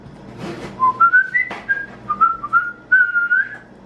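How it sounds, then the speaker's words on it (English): A man whistles a bright, wavering tune made of short rising and sliding notes. The whistling comes in quick bursts over a busy indoor background and is close and fairly loud. "The annoying whistle."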